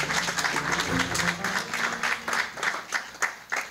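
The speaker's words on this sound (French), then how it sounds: "Est-ce qu'on peut applaudir encore très fort pour l'honorable?" An audience applauding a senator at a conference, dense clapping that stays full throughout, with a voice speaking briefly over the start before the clapping carries on alone.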